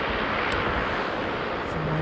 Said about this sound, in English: So this is Jetstar 517. He'll be taking off momentarily.